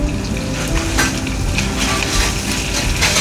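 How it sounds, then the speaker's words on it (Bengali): Onions and green chillies sizzle vigorously in hot oil, a dense crackling fry with stirring scrapes running steadily throughout, no voices. "তেলের মধ্যে আস্তে আস্তে পেঁয়াজ কাঁচা লঙ্কাগুলো দিয়ে দিলাম"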